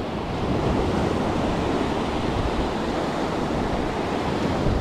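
Sea waves wash steadily onto the rocky shore at Playa del Carmen, a continuous loud surf roar mixed with wind buffeting the microphone.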